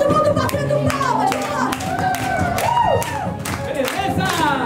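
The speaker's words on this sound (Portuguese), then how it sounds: "Todo mundo batendo palmas!" A group claps along to a song, with rhythmic hand claps beneath singing voices and music and a lively crowd around, the whole mix loud and close.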